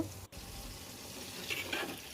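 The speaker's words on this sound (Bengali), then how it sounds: "ডুবো তেলে ভেজে নিলেই রেডি বেগুন ভাজা" Oil sizzles and crackles steadily as aubergine slices coated in turmeric and salt deep fry, with a brief dropout and a louder hiss swelling near the end.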